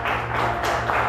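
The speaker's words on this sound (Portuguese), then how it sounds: "Vamos aplaudir bem forte." A church congregation applauds loudly and steadily through a short burst, the dense clapping filling the room with no talk over it.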